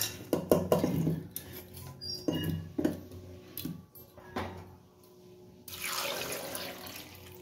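Water is tipped in several quick splashing pours onto potatoes in a pressure cooker, close and fairly soft, with a longer gushing pour near the end.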